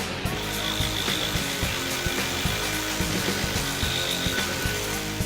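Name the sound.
Makita DJR187 18V brushless reciprocating saw cutting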